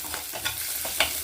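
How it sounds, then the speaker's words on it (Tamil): Tamarind and coconut sautéed in a pan for coriander thuvaiyal, a continuous close sizzle with a few quick spatula scrapes in a short burst. "புளி, தேங்காய் போட்டு வதக்கலாம்."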